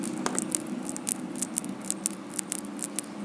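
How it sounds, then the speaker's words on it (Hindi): An original Hero Honda Splendor Plus chain and sprocket, shaken close to the mic, gives off a quiet, rapid patter of sticky, squishy clicks from the grease packed inside, irregular little ticks with no talking. "लेकिन जब ओरिजिनल को हिलाएंगे तो आपको एक चिप चिप की आवाज सुनाई देगी इसके अंदर"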